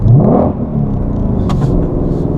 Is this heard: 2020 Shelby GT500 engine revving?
yes